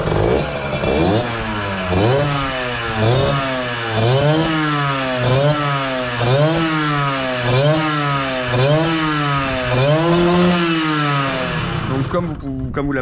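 A restored, already warm Beta motorcycle engine runs close and loud, revved again and again in quick rising-and-falling surges about once a second before cutting off near the end.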